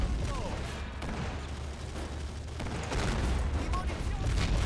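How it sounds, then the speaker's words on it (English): Distant battlefield gunfire and booming shots from 40 mm guns firing at tanks in the video game Men of War: Assault Squad 2, a dense continuous rumble of bursts under faint voice. "We've tracked some of those tanks. 40 millimeters firing away."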